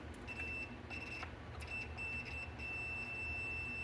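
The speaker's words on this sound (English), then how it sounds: "When you're testing your fuses, when you hear that beep, that fuse is good." A faint, steady multimeter continuity beep sounds repeatedly in short pulses over a quiet room hum, with a few soft clicks, while testing hot tub fuses.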